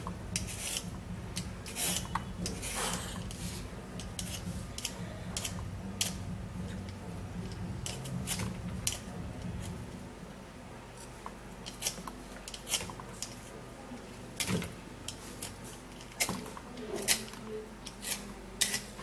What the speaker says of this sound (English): what we're going to do is to first of all peel the carrots